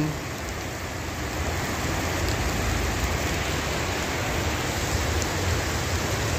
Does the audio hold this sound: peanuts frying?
no